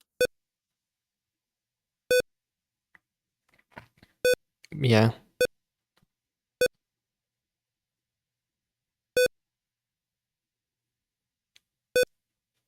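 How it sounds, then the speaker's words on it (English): A CHIP-8 interpreter gives short, sharp electronic beeps at uneven intervals, about seven in all, with a single brief spoken word near the middle. "It beeps, it boops sometimes when it feels like it."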